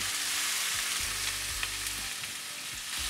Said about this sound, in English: You want to stir this around a little bit?